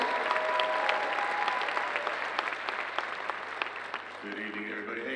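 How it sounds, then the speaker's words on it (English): An audience at a cosplay competition at Planet Comicon applauds, a sustained, fairly loud spread of many clapping hands, with a voice briefly audible underneath near the end. "Let's give him a round of applause for being here."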